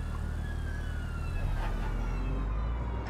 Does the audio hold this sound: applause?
no